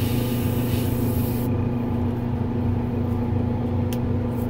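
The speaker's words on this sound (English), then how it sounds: "I'm not sure if I'm going to be able to get my airbrush in there." An airbrush sprays paint onto the pants of a 1/5 scale Hulk figure prototype, a continuous close hiss over a low steady hum, unbroken for the whole stretch.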